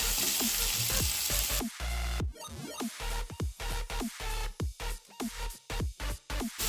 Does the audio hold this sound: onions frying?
yes